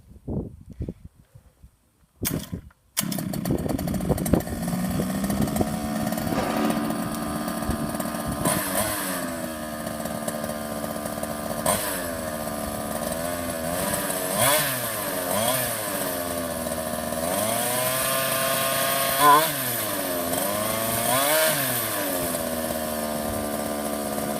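A Losi 5ive-T petrol RC car engine idles steadily after a choke start, warming up with a continuous buzzing drone that swells and dips slightly in revs, loud and close, following a few brief pulls at the start.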